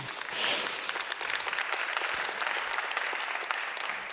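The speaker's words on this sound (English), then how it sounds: "I take the applause for them because they are really courageous, brave people" An audience applauds at a peacebuilding summit, with a dense round of clapping holding steady throughout, individual claps audible in the mix.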